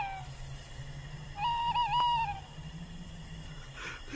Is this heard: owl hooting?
yes